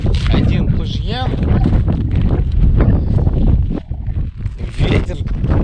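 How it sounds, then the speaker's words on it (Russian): Strong wind buffeting the microphone on an open frozen lake during night fishing for burbot, a constant loud rumbling roar with gusts, with voices talking over it. "Ветер."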